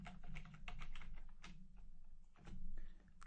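Typing on a computer keyboard while writing code, a quick run of soft clicking keystrokes in uneven bursts with brief pauses, close and fairly quiet over a low steady hum.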